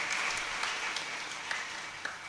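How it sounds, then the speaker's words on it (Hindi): Faint, distant applause from an audience at a Satyanarayan Vrat Katha gathering, a low steady patter with a few sharper claps standing out, quiet and unbroken. "एक बार अपने लिए जोरदार तालियां बजाओ सभी।"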